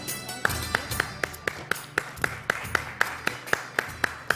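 A television host claps his hands in a studio, a steady run of sharp, evenly spaced claps at roughly four per second, close and clear with no other sound in the way.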